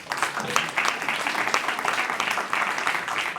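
Audience applause at a talk event, close, steady clapping from a crowd with a slightly pulsing rhythm, loud throughout the short stretch.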